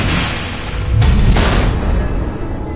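Missiles exploding in a Batman video game, a loud low boom swelling into a burst around the middle over a constant heavy rumble.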